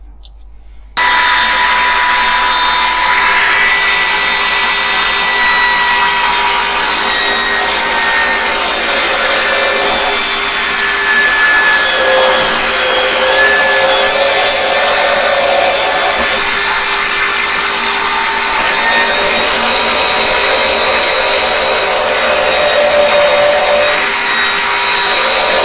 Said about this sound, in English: So I'm going to get onto my bench drill and do that in a minute.